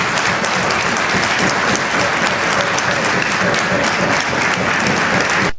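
Sustained, loud applause fills the room from a large audience after an accord is signed by a party president, a dense unbroken wash of many hands clapping together.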